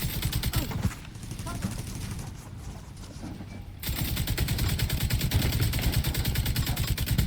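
Rapid automatic gunfire from the Division 2 video game, dense bursts running nearly throughout, dropping back during a brief lull before resuming loud and continuous, with game effects layered in.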